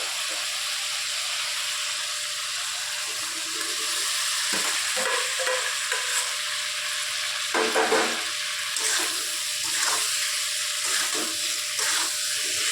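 Boiled, diced potatoes stirred into hot spiced oil with softened tomato for a vegetarian cashew aloo posto, giving a steady close sizzle broken by repeated scraping stir strokes, with no talking.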